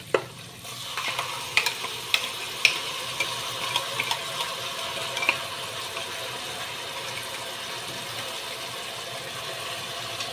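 Spice paste of cumin, coriander, dried and green chillies, ginger, garlic and a little onion fries in a pan, a soft continuous sizzle with several light spoon scrapes and taps near the start, fading to a quiet steady hiss.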